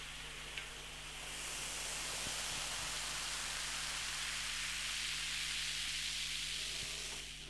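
A steady, broad fizzing hiss of carbonation from cape gooseberry and yuzu gose beer in a glass, close and continuous for several seconds, like fine static or soft rain.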